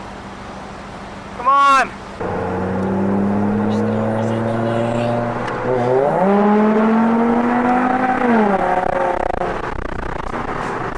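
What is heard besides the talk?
Mitsubishi Evo and Subaru STI cars revving and racing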